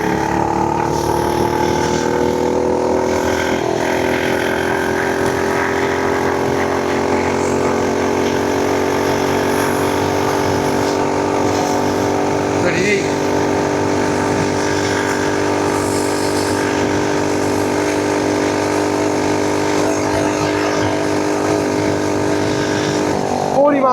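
FRP GMB100 mini bike engine held at full speed, a loud, sustained, high-revving drone that stays steady throughout, with a few brief voice sounds mixed in.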